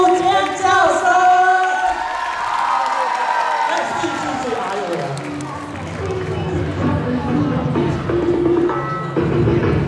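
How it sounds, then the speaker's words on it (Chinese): A school event audience applauding and screaming for a high school bartending club's performance: loud crowd cheers and clapping under an announcer's amplified voice, the roar swelling after a few seconds amid music and whoops. "让我们最热烈的掌声加油！ 欢迎闽台高中调酒社的五位美女带来精彩演出，尖叫声！"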